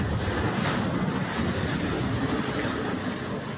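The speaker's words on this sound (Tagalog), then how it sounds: "Umugong ang rumaragasang tubig na tumagos sa barkong gawa lamang sa kahoy." Roaring, rushing water from a China Coast Guard water cannon pounding a wooden boat at sea, a dense continuous wash mixed with wind buffeting, loud and close.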